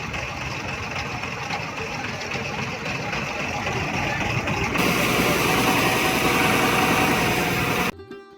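Boat engine droning continuously on a Ganges boat ride in Varanasi, a steady mechanical rumble with broadband water and wind noise, growing louder and harsher midway before cutting off abruptly near the end.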